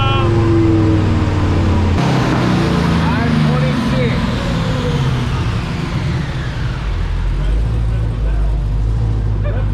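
A Dodge Demon roars on a dyno, a loud, dense engine and exhaust blast sweeping up in pitch through the run before dropping into a lower steady rumble near the end.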